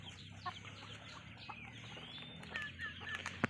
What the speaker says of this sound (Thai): ไก่ก็นี่ครับไก่บ้านครับ